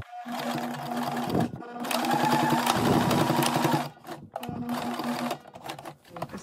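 An electric sewing machine stitching a patch pocket onto a garment, running in a continuous humming, rapid needle chatter that pauses briefly and restarts in shorter runs, close and loud with no talk.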